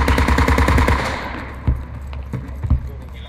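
Rapid machine gun bursts in the tactical shooter Squad, a dense loud stream of shots for about a second, then scattered single and distant reports under a low rumble of battle.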